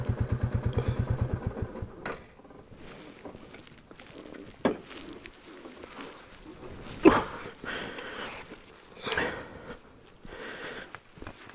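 Royal Enfield Classic 350 single-cylinder motorcycle idling in gear on a windy hill road, a fast steady thump at first, then fading under wind buffeting, clunks and scattered knocks.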